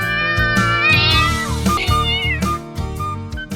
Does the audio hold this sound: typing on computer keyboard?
no